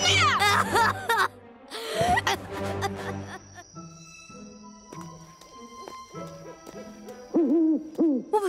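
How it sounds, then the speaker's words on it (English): A cartoon owl hoots in a short run of wavering, tonal calls amid layered animated sound effects, with characters' voices and reactions mixed in at the start and end. "It's an owl."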